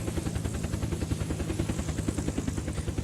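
Helicopter in the game Unturned coming in to land, steady rapid rotor thumping with a droning engine tone, close and constant, with no speech.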